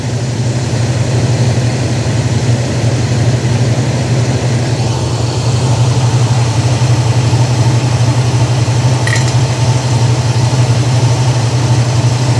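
A car engine fitted with an electronic Quadrajet carburetor idles steadily after a mixture adjustment, a smooth continuous low hum running close and alone throughout.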